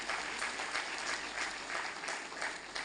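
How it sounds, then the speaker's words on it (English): A summit crowd gives a sustained, even round of applause, clapping densely for several seconds at a moderate distance. "he requires a huge round of applause for his innovation"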